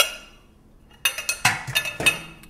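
Spoon or utensil clinking against a dish while green bean casserole ingredients are mixed, starting after a quiet moment and going on as a quick series of sharp clinks and scrapes, close and moderately loud.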